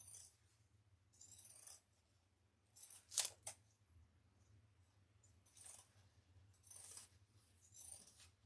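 Scissors trim fabric on an Ava shoulder bag with a few separate bursts of snipping, one sharper double cut in the middle, close and quiet with no talking.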